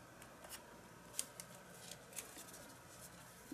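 Scissors trim paper ephemera in several quick, crisp snips close by, each a short sharp cut spaced irregularly against a faint, quiet background.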